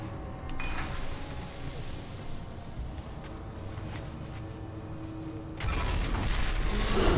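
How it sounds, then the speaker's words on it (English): A bomb explosion in the World of Warcraft video game bursts out as a loud, dense boom with a rumbling low-end tail, swelling again near the end with rising broadband noise. "I took damage from the explosion, so it didn't let me click on the stupid bomb"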